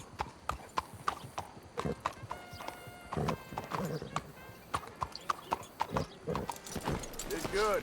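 A horse in the Red Dead Redemption 2 video game, hooves clip-clopping in a steady close rhythm with a whinny partway through, while someone talks over it.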